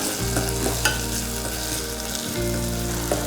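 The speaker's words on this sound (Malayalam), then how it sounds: "പച്ചമുളകും കൂടി ചേർത്തി കൊടുക്കാം നമുക്ക് നന്നായി മൊരിയണവരെ വരെ ഇത് ഇളക്കി കൊടുക്കാം" Beef ball curry masala with green chilies frying in a pan, a steady loud sizzle with a low hum beneath and occasional scrapes of a spoon stirring through it, no voices.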